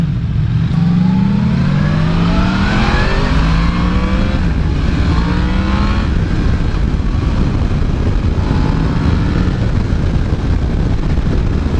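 2018 Yamaha MT-10 motorcycle engine pulling hard, loud and continuous, with the pitch climbing through the revs and dropping at each gear change, under steady wind rush.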